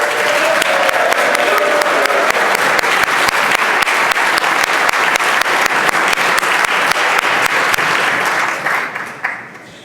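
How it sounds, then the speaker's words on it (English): A long round of applause in the Virginia House of Delegates chamber, many legislators clapping in a loud, even, sustained roar with crisp individual claps, holding for about nine seconds before quickly fading out. "So please give Mark a nice round of applause."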